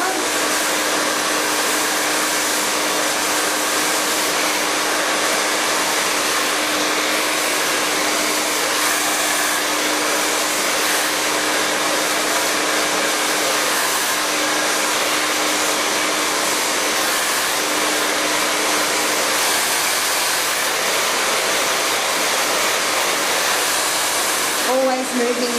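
A hair dryer blows continuously on a client's short hair during a blow-wave styling, a loud, steady whooshing roar with a constant motor hum that lasts the whole time.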